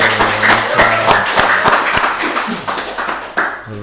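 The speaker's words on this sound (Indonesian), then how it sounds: "Tepuk tangan buat Pak Sutioso." Loud, close applause from a crowd, dense clapping that holds steady and then tapers slightly, with a few sharp claps standing out.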